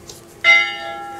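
A single church bell is struck once, ringing out loud and close, then its tone hangs and slowly decays with a steady hum beneath.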